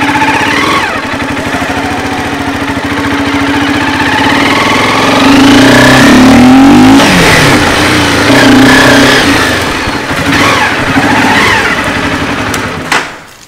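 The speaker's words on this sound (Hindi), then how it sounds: "तो अभी अंदर बाइक ही ले चलते हैं" A motorcycle engine runs loud and close as it rides through a gate into a village government school yard, revving up and easing off in waves over a steady rumble.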